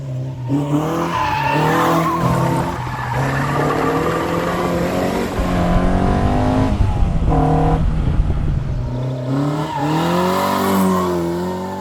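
A Caterham Seven sports car's engine howls at high revs as tires squeal and skid through turns, loud and continuous with rising and falling pitch.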